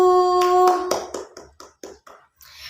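A classroom applauding a group presentation, a short burst of hand claps that thins into a few scattered, separate claps near the end.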